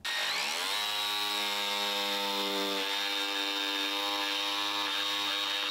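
Bosch GST 18V-155 SC cordless jigsaw cutting through a 6 cm thick piece of wood, a steady, loud motor whine with strong harmonics that rises at startup and holds for the whole cut, with no talk.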